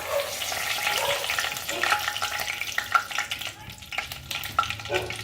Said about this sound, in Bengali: এই তেলের মধ্যেই আমি দিয়ে দেব একটা তেজপাতা